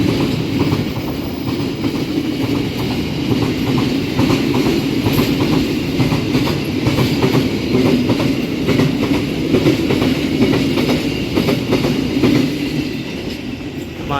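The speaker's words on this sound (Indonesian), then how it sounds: "kita berpapasan dengan kereta api BBM nih teman-teman ya" A fuel tanker freight train passes at Bumiayu station, heard from aboard a train, with a loud continuous rumble and rapid clickety-clack of wheels over rail joints and faint squeals throughout.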